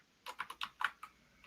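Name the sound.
someone typing on a computer keyboard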